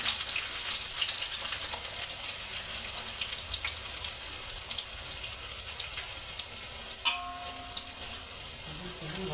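Onions frying in hot oil give a steady, dense sizzle and crackle throughout, with faint clinks and a brief watery trickle near the end.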